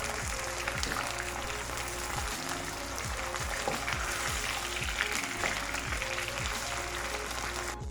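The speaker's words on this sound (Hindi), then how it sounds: "तो इसी तरह मैं आलू इसमें फ्राई करती हूँ।" Potatoes fry in hot oil for an aloo baingan sabzi, giving a dense, steady crackling sizzle close up. Occasional scraping sweeps from stirring recur throughout.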